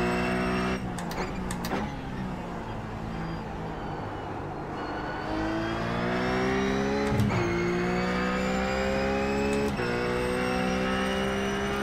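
RUF race car engine in the iRacing sim at Imola, loud and continuous, repeatedly revving up through the gears with quick shift blips, alone without talk.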